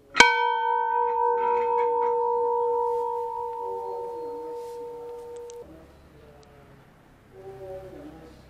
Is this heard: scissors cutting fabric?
no